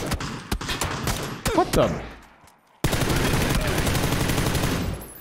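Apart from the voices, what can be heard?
gunfire in the video game PUBG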